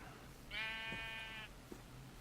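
A single drawn-out sheep bleat from Minecraft with the Better Than Wolves mod, a clear nasal wavering call lasting about a second over quiet game ambience, followed by a faint soft thump.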